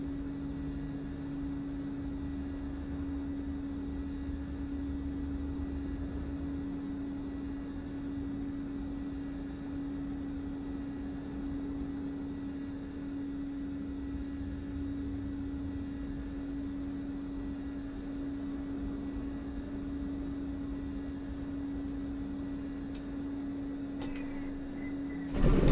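An Antonov An-2 radial-engine biplane idling on the ground in a flight simulator game, a steady droning hum that holds constant with no talk over it.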